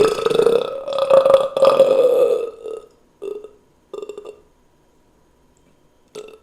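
A long, loud, drawn-out burp rumbles close by, followed by a few shorter belches separated by silence.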